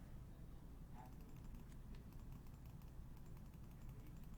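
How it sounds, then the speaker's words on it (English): Rapid, quiet keystrokes tap on a computer keyboard in an irregular stream, faint and close, with no talking over them. "Let's try typing"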